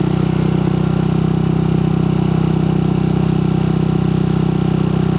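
A Yamaha Nmax Techmax Turbo scooter fitted with a VMAX Racing Onyx muffler, held at 3,000 RPM, gives a steady, loud, droning exhaust hum with an even pulsing throb throughout.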